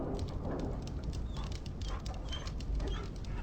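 A dog whimpers softly in Dragon Age Origins, faint whines and small pattering sounds in a larder, heard alone over a low game ambience.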